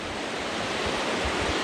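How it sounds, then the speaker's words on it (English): Overflow water from a spring-fed pond runs steadily down a channel, making a loud, continuous broadband rush with no pauses and no voices. "That pond overflows and comes down here."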